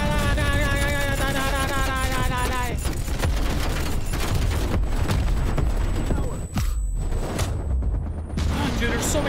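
Video-game gunfire from Call of Duty Black Ops Cold War's campaign rattles in dense rapid bursts under a musical score, with sharp booming impacts and a brief near-silent gap before shooting resumes.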